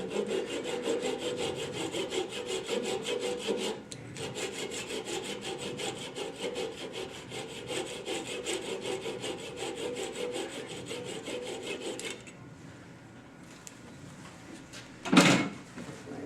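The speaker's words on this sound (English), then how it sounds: "Get your little saw out." A small hand saw cuts a wooden tenon in quick, regular back-and-forth strokes. The sawing pauses briefly, carries on, then stops, and a single sharp knock follows shortly after.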